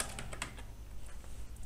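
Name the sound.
typing on a computer keyboard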